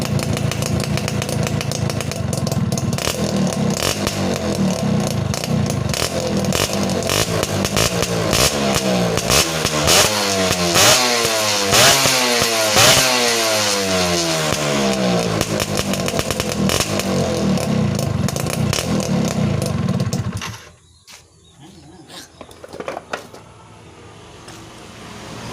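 A Yamaha F1ZR two-stroke motorcycle engine, just fitted with a new piston and having its side oil pump adjusted, runs loud and raspy with buzzing rev changes for about twenty seconds, then cuts off, leaving quieter background noise.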